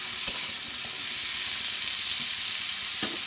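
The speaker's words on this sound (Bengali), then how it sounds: "এবার ভালো করে ভেজে নেবো এটা।" Pumpkin and bitter gourd frying with turmeric in a pan give a close, continuous hiss of sizzling oil, with a couple of brief sharp clicks from stirring and no talking.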